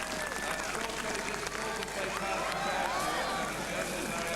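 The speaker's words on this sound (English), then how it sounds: "takes the applause of the Cork crowd" A Cork crowd applauds the yellow-jersey leader at the 1988 Nissan Classic cycling race, a steady, dense wash of clapping and crowd noise that holds at an even level throughout.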